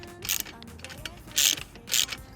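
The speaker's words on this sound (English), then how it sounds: "And then we can tighten up this clamp thing." An exhaust clamp on a Honda CBR600RR slip-on is tightened, making close mechanical ratcheting clicks in three short bursts with light creaks and handling noise between them.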